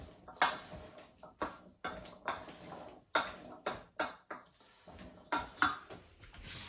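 A utensil scrapes and knocks around a bowl while food is stirred during cooking, a series of irregular clinking, scraping strokes, close and fairly quiet, with no talking.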